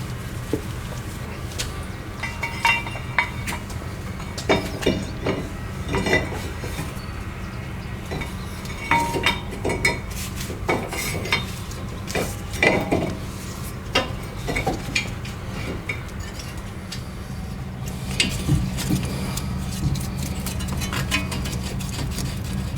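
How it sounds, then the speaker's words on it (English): Metal brake parts on a 2010 Toyota Camry front axle clink and knock as the disc and caliper frame are fitted, a steady run of close, sharp metallic taps and scrapes over a low workshop hum. "Now we're going to put on the disc and the first part of the brake caliper, the frame."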